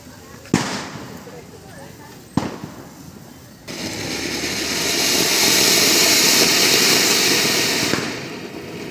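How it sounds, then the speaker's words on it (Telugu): Two sharp firecracker bangs a couple of seconds apart, followed by a long loud crackling, hissing burst of firecrackers going off nearby after Nagula Chavithi puja. "మా అందరి పూజ అయిన తర్వాత లాస్ట్లో క్రాకర్స్ కూడా కాల్చాం"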